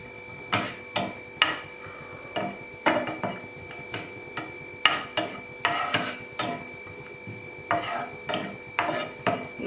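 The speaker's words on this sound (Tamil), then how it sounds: "முந்திரியை நல்லா வறுத்துக்கணும்." Cashews roasting in a pan for maa ladoo, with a spoon scraping and stirring in regular strokes, about twenty dry rasping scrapes in steady clusters against a faint steady hum.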